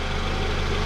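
A Honda Civic FG1 idles steadily after running about half an hour, a constant close, even engine hum with a fine regular pulse and no talk.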